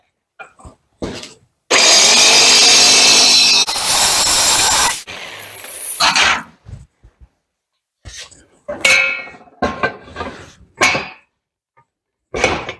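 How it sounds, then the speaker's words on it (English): A saw cutting metal while building a custom brush guard, a loud steady burst of about three seconds, followed by scattered short clanks and scrapes; people talk in between. "Then we can trim that with a saw."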